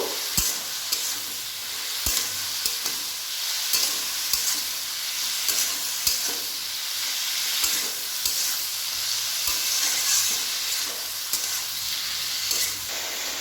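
Sliced snake gourd with chilli, salt and turmeric fries in a pan while being stirred, giving a steady sizzle broken by sharp utensil scrapes and taps at irregular intervals, close and fairly loud with no talking.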